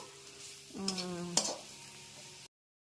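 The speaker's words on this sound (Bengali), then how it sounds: "এটা আমার থোর ভাজা প্রায় অলমোস্ট হয়ে এসছে" Banana stem (thor) frying in a pan, a soft steady sizzle with a short metallic scraping stir in the middle, close and fairly quiet, ending abruptly.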